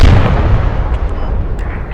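A loud, booming gunshot blast in the video game Squad with a long rumbling decay, close and dominant throughout.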